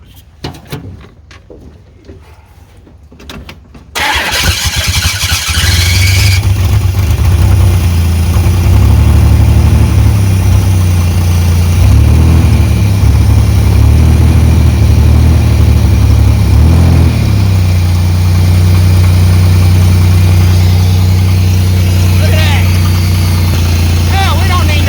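A car engine cranks after a few scattered clunks, catches, and settles into a loud, steady rumbling idle that runs on continuously, close by, with people talking over it.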